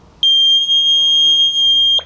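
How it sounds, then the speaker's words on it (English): A low power alarm on an emergency communication go box's battery box sounds as one sustained, piercing high electronic beep lasting nearly two seconds, loud and close, with a faint click at the end. "Oh, there's a low power alarm on the battery box too."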